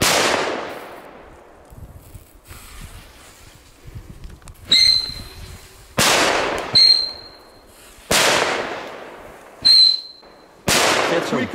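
Several loud firecracker blasts go off in sequence, some preceded by brief shrill whistles, each bang sharp and echoing before fading.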